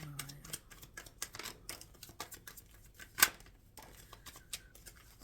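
Quiet crisp riffling and tapping of tarot cards being handled and shuffled, with one sharp snap midway, close up.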